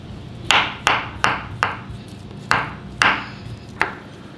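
A knife cuts boiled, peeled potatoes into pieces on a cutting board, giving seven sharp chops at an uneven pace against a low background hum, close by and with no talking.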